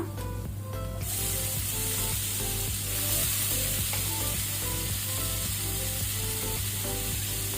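Tomatoes fry with onions in a pan over medium flame, a loud continuous sizzle with a bright hiss rising after the first second, punctuated by rhythmic stirring clicks and scrapes.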